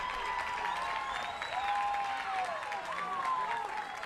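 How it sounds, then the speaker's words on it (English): Raucous crowd at a Michigan Wolverines versus UCLA Bruins college softball game applauding in a steady, dense wash of clapping and cheering that carries on throughout, with a commentator talking over it. "Well, whatever it is, it stands, and a raucous Michigan crowd applauds."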